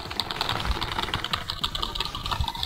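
Rapid computer keyboard typing fills the whole stretch, a dense run of crisp key clicks with an irregular rhythm, close and steady, during play of a Digimon World 2000 game session with no talk over it.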